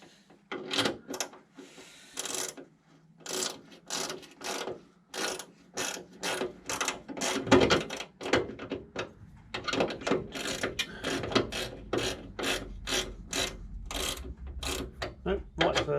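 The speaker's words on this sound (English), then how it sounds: "Very good, these little ratchet spanners." A small ratchet spanner turns a 5/16 nut on the door trim of an MGA 1600 under restoration, giving bursts of rapid, crisp clicking close up with brief pauses between strokes.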